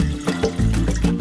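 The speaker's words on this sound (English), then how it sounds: "Let it sit for about 30 seconds in this water, and then we're going to drain the water." Rinse water drains from white rice through a sifter, a close, steady pouring trickle with a few louder splashy surges over about a second.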